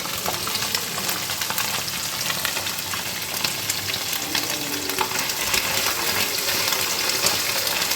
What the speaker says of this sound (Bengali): এই যে কুচো মাছ ভাজছি